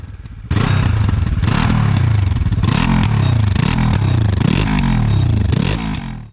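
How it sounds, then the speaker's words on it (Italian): A Benelli TRK 702 X motorcycle's engine and exhaust rev repeatedly with a deep, loud growl, rising and falling in steady surges close by, with no talk. "questo propulsore lascia sfogo allo scarico di emettere una bella voce cupa"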